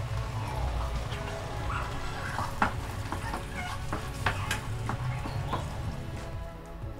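Tomato sauce with spices, parsley and garlic cooks down on a stovetop over high heat, giving a steady sizzle and bubbling with occasional stirring scrapes and clinks throughout.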